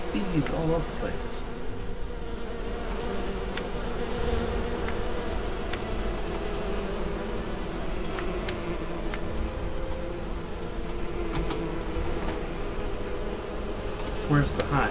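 Bees buzz constantly around the player in the Enderal game, a thick, near swarm hum holding steady for the whole stretch with faint clicks scattered over it.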